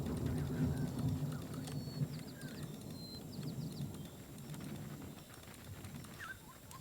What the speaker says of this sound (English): Lovely sound of storm there.